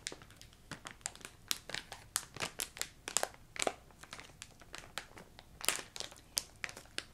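A crinkly plastic bag is handled close up, producing a rapid irregular series of sharp crackling crinkles at soft volume, with no voices.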